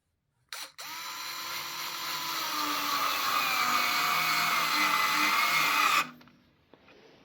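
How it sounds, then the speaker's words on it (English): A small Fanttik cordless electric screwdriver drives a screw into a wooden wall stud, its motor whirring steadily and loudly for about five seconds and rising slightly in pitch as it runs, then cutting off abruptly. "Driving a screw into a stud with this little thing, that's amazing."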